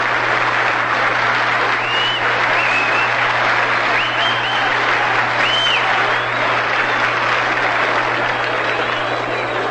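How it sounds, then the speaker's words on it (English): Steady, dense applause from a big ballpark crowd greets a Detroit Tigers pitcher walking up to bat at the 1945 World Series game against the Cubs. It runs loud and unbroken over a low broadcast hum, with faint whistles rising above it. "listen to that round of applause for him"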